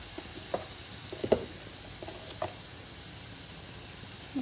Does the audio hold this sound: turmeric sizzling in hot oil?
yes